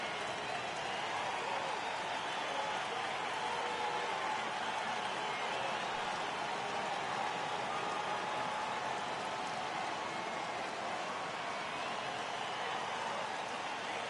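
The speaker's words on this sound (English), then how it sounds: "the rain starting to intensify here. It's coming down a little heavier now." Steady rain hiss in a baseball video game on PS4, a continuous broadband wash of falling rain with a faint crowd-like murmur underneath, constant in level throughout.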